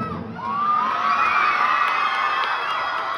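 Schoolchildren at a school arts festival trophy presentation cheer and whoop together, a loud, continuous, high-pitched crowd roar that rises after a brief quieter start and holds steady throughout.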